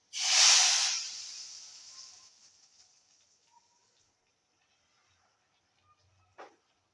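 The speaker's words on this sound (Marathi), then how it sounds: "आता आपण ह्याची वरून फोडणी देऊ छान." Hot tempering poured over a garlic fenugreek dish topped with red chilli powder bursts into a loud sizzle that fades over a couple of seconds, ending with a faint clink near the end.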